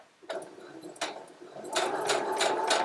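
Sewing machine stitching a quilt, with a few short bursts of needle strokes and then a steadier run of rhythmic stitching, close and moderately loud.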